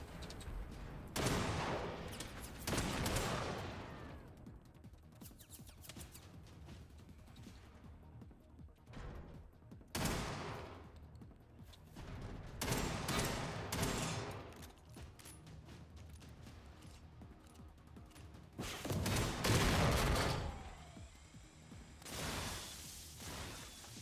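Shotgun blasts in the video game Generation Zero come in several loud, booming bursts spread over the stretch, each followed by crashing impacts and mechanical clatter, with quiet gaps between volleys.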